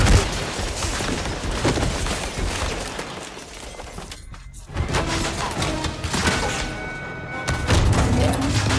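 Dense bursts of gunfire and crashing impacts from the video game 007 First Light, loud and continuous with a brief lull midway.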